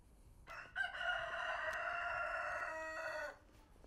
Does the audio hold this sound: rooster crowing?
yes